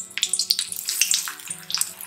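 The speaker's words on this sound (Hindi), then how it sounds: "हम पकोड़े अपने इसमें डीप फ्राई करेंगे।" Onion pakoras drop into hot oil for deep frying, giving a close, crackling, bubbling sizzle with several quick spattering bursts.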